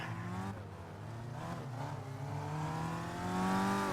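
Skip Barber Formula race cars lapping in the rFactor 2 racing game: several engines drone and rev together, pitch climbing and falling through gear changes, a continuous layered motor whine with no voices.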